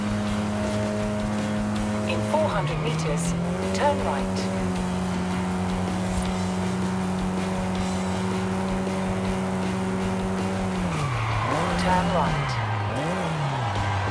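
A BMW 2002 Turbo engine in Forza Horizon 5 drones steadily at high revs, dipping with a gear change early on and two quick shifts near the end, loud and continuous throughout.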